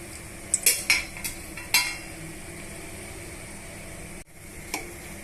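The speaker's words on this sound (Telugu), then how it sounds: "ఆయిల్ వేడెక్కిన తర్వాత బిర్యానీ మసాలా అంతా కూడా ఇందులో వేసేస్తున్నానండి బిర్యానీ స్పైసెస్ అన్నీ కూడా ఇందులో వేసుకోవాలి ఆయిల్లో వేసుకొని వేగనివ్వాలి" Whole biryani spices fry in hot oil for chicken dum biryani: a few sharp metallic clinks and stirring scrapes come first, then a steady low sizzle carries on.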